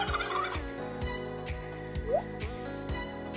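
A turkey gobbles in a series of loud, rattling bursts that repeat roughly every half second, up close and clear, with faint background music.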